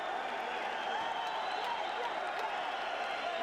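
A Welsh boxing crowd applauds Calzaghe after his fight with Eubank, a steady wash of distant clapping and crowd noise that holds at an even level throughout.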